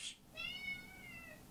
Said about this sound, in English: you're really just gonna come into the room, meow me, and run away?